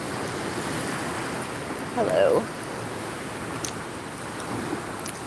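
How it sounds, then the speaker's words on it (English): Ocean waves roll in at a beach as a soft, steady wash of surf and wind, with a person briefly speaking over it partway through. "Let me show you the ocean."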